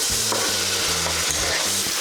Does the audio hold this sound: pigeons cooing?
no